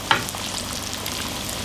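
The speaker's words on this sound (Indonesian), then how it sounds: "Oke, kita goreng sampai matang." Long horn bananas (pisang tanduk) fry in hot oil for a crispy sesame snack, giving a steady, close sizzle and bubbling hiss that opens with a sharp crackle or stir, with no talking.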